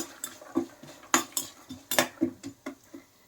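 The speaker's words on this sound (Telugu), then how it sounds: "చూడండి, ఈ ఆయిల్లో వేయించుకుందాం." Capsicum chutney ingredients are fried in a little oil while a utensil stirs them, making a series of sharp metallic scrapes and clinks against the pan in an irregular rhythm over a faint sizzle, with no talking.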